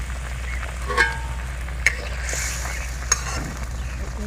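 Papaya and chickpeas bubble in a pot with a soft continuous simmer, broken by a few sharp clicks of a spoon knocking the pot while stirring.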